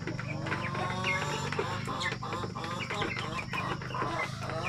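Native chickens and their chicks cluck and peep continuously at close range, a busy flock chattering with overlapping calls throughout.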